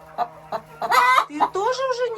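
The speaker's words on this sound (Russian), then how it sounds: "Новая курочка." A new laying hen clucking close by in a backyard flock, a quick series of short clucks rising into a longer, drawn-out cackle, loud and clear with no talk.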